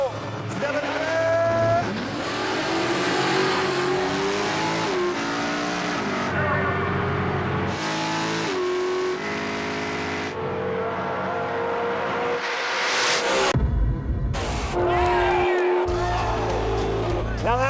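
Drag race between a 400 cubic inch Chevy and a Mustang: engines roar and rev hard with shifting pitch, tires squeal, then the cars scream past, loud and near, with commentary talk over it.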